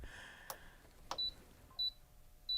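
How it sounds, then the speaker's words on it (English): Three short electronic beeps from an HTVront Auto 2 heat press set to 300 degrees sound at a steady pace, preceded by a couple of soft clicks in a quiet room. "This one's beeping at me again."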